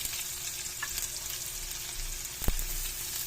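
Onion and garlic sauté in hot oil in a pan for lumpia togue, a steady close sizzle throughout with one sharp utensil knock near the end and no talking.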